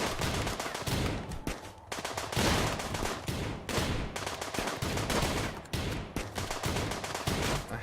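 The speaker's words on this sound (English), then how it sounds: "This guy has a auto pistol. Let's fire at him." Rapid automatic pistol gunfire in the colony-management game Rimworld, dense bursts of shots cracking one after another without letup, loud and close throughout with no talking.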